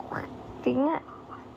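A person imitates a duck's quack with a short voiced call under ongoing talk; nearby voices continue around it.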